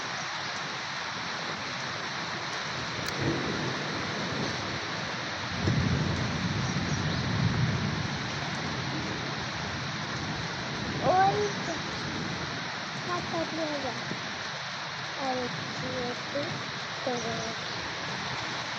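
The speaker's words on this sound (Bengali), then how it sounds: "এখন কিন্তু আরো জোরে নেমে গেছে গা বৃষ্টি।" Heavy rain pours in a steady, dense hiss that swells briefly now and then, while someone talks nearby over the downpour.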